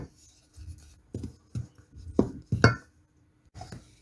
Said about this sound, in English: So next I stir.